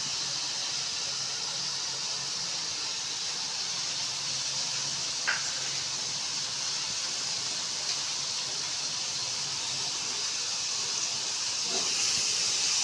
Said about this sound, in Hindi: अच्छी तरह ना भून लेंगे प्याजों को